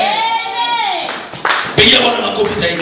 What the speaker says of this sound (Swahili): Pigia Bwana makofi zaidi.